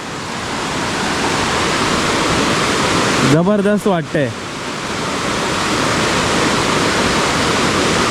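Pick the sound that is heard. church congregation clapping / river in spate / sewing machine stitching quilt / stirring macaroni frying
river in spate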